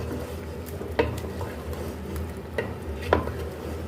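Blended tomatoes being stirred into chicken cooking for Lahori murgh cholay, a low simmering sizzle with a few isolated clinks and scrapes of a spoon against the pot, close and without talk.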